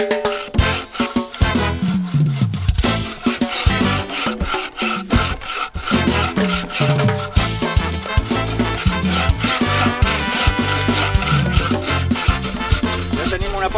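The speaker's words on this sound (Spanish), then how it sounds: "Ja tenim una pota, i ara anem a tallar l'altra pota." A hand saw cuts through a pine log to make legs for a rustic wooden bench, with steady, loud back-and-forth rasping strokes that continue without a break.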